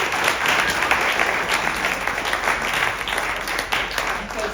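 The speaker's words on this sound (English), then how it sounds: "So if we can get a huge round of applause for Smoke Signals and its staff." A live event audience gives a sustained round of applause, dense steady clapping that fills the room at even loudness throughout with no gaps.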